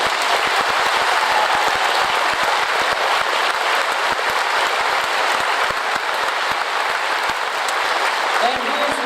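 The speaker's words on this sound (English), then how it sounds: "Please give them a round of applause for these achievements and more." Audience at a 2014 graduation ceremony applauding for class achievements, a dense, sustained wash of clapping that stays loud and even throughout without pause.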